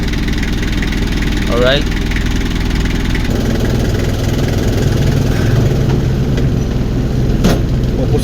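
A car engine with a hard-starting problem when hot idles steadily and close by, a continuous low rumble throughout, with someone briefly speaking over it.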